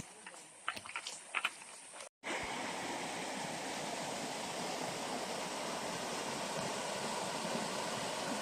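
River water rushes at a river crossing, a loud, steady broadband roar filling most of the recording after a brief cut, with scattered knocks and handling noise before it.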